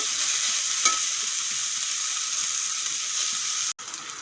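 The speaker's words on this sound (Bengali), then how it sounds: "কুশি সিদ্ধ হয়ে গেছে এখন এইভাবেই কিছুক্ষণ ভেজে নেব" Boiled ridge gourd peels frying in a pan for a Bengali peel fry, a steady bright close sizzle with a brief sharp knock near the end, no speech.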